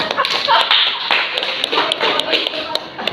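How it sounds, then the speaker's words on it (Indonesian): Young children in a classroom clap for their classmates, a dense run of small hand claps and taps scattered close by, with children's voices chattering over it. "untuk teman-temannya diberi dulu tepuk tangan"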